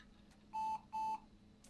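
Two short, identical electronic beeps sound in quick succession against a quiet background hum as a Dell Inspiron 7500 laptop boots up.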